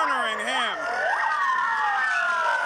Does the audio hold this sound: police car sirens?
yes